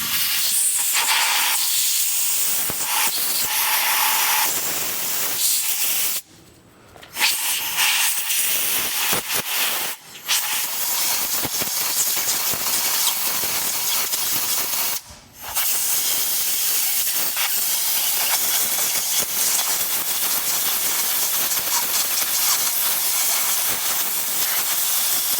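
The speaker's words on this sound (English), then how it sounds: "now he's going to blow out whatever he can with the air compressor" An air compressor nozzle blasts air into a deer skull, a loud close hissing rush that runs almost continuously, broken by a few brief pauses before resuming, with no voices.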